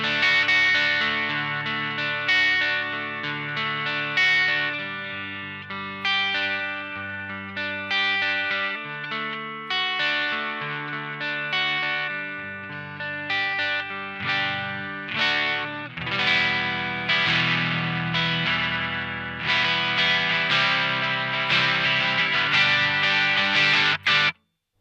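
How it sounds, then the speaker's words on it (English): Electric guitar through a Deaf Watts overdrive pedal at minimum gain plays a steady run of picked notes and chords, slightly gritty with a touch of chorus, ending abruptly. "I've got the gain turned all the way down so we can hear those early overdrive stages"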